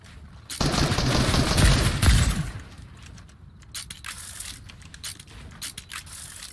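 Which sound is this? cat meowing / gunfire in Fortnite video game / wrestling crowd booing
gunfire in Fortnite video game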